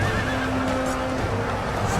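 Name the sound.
horses neighing, dragoons in Empire: Total War video game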